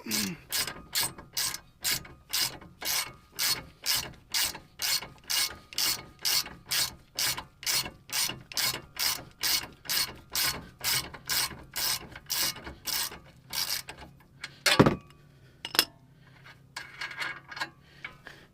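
A ratchet removing the nut from a vehicle hub assembly ticks in a fast, even rhythm of sharp clicks for about fourteen seconds, then a louder clank and a few scattered metallic taps follow.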